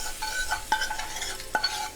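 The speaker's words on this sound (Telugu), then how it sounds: "వేసుకున్నాక పచ్చడి మాత్రం ఇలా మిక్స్ చేయండి" Gongura chutney with onions stirred in a pan, a spoon scraping and clinking against the metal in a few quick strokes with faint sizzling beneath, heard alone at low volume.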